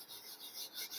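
An eraser rubs out writing on a surface during a physics problem, giving a short, raspy scrubbing sound in several quick strokes, close and fairly quiet, with no one talking.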